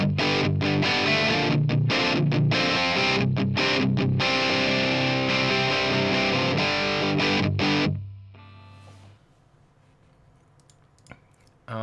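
Heavily distorted electric guitar played through an Evil Sound Lab Malefica distortion pedal set to its reso tone, dense chords for about eight seconds, then cut off to a faint ringing tail and near silence.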